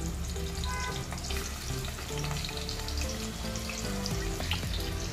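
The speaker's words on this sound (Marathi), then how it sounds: "आता यात मी हे जे कांदे आहेत ना, हे मस्तपैकी ब्राउनिश करून घेणार आहे." Onions browning in hot oil and ghee in a pan for soya chunks biryani, a steady close sizzle and crackle with a few faint clinks, continuous throughout and without talk.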